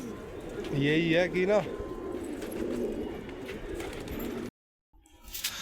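Pigeons coo close by in a short, throaty warbling run, while someone talks over them and steady background noise continues, ending in a brief silence and then a few faint sounds.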